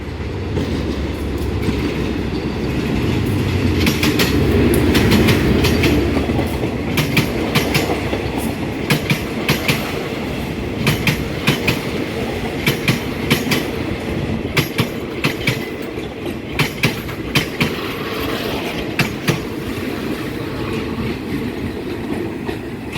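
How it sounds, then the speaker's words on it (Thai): A special freight train rolls in along platform 1 at Taling Chan Junction station, Thailand, a heavy rumble with repeated clickety-clack of wheels over rail joints, steady and fairly close, no talking. "มีรถไฟมาพอดีนะครับ"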